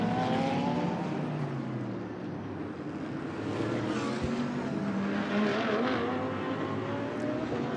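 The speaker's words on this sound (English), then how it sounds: "he brings the WRT car down pit lane now" A WRT GT race car runs down the pit lane at Spa-Francorchamps during 24 Hours of Spa qualifying, its engine a steady, continuous drone with shifting pitch, fairly loud and alone.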